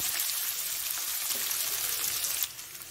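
Chopped onion, red chillies and curry leaves fry in hot oil with a steady, dense sizzle that stays loud and close, easing slightly near the end, with no voices.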